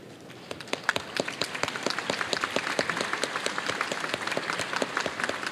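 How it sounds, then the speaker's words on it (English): Audience at a formal side event of the TICAD7 conference applauding steadily, a dense sustained round of clapping with crisp individual claps standing out, moderately loud and without talk. "let's give them a round of applause."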